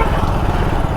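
A motorbike engine runs steadily during a ride on the roads around Yercaud, a loud, close, buzzing drone with rapid pulsing and no pauses.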